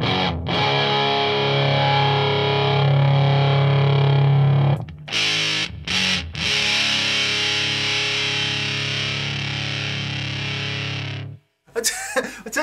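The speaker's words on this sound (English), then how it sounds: "We can hear the Big Muff interacting with the Marshall, and it sounds lovely." Electric guitar played through a Big Muff fuzz pedal into a Marshall amp gives thick, saturated sustained chords. Long held notes are cut by a few brief gaps and then ring on before stopping near the end, when a short burst follows.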